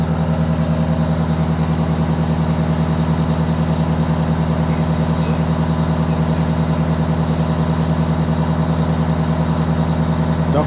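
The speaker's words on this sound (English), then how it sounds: "As soon as you start backing out, give it a real quick little brake check." A Wanderlodge bus engine running steadily with a deep, loud, even diesel drone throughout, no distinct braking event standing out.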